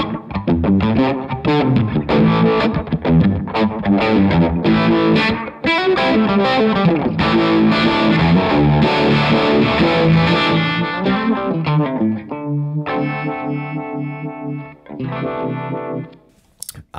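Electric guitar played through a Retrovibe modulation pedal on a clean setting, a continuous chordal passage with swirling, warbling tone, loud and alone, thinning out and fading near the end.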